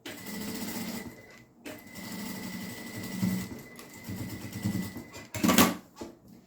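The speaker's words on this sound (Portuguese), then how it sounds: "Eu vou fazer uma costurinha bem aqui na borda dessa parte verdinha, só pra unir todos os tecidos" A sewing machine stitches along the edge of green fabric to join the layers together, whirring close up in several bursts separated by short pauses, with a sharp clack near the end.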